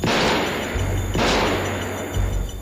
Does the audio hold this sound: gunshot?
yes